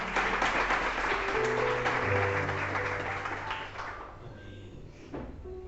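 Congregation applauding during an evening church service, a sustained dense clapping that is loud at first, then thins and fades out toward the end.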